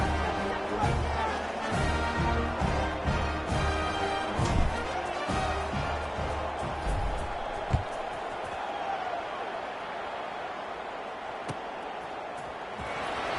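Stadium crowd at a Stanford vs Utah State college football game, a steady broad murmur with scattered thumps and shouts throughout, fairly loud and continuous; commentary is heard over it.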